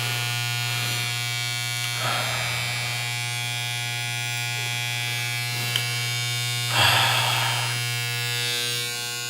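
Electric shaver buzzing steadily while shaving an eyebrow, a close, constant droning hum with brief rougher bursts as the blades meet hair, alone without talk.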